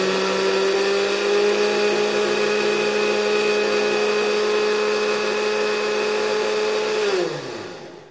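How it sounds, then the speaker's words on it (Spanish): A blender whirs steadily at a constant high pitch for several seconds, then winds down as the motor is switched off. "Vamos a prender nuestra licuadora y vamos a ponerle en el número 1."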